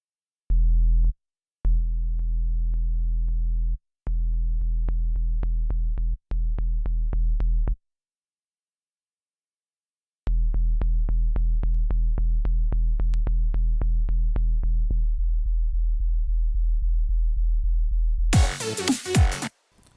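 Deep sub bass in FL Studio sent to a channel with no low-cut EQ, strong sustained sine-like low notes in repeated blocks with short gaps, then a brief noisy burst at the end.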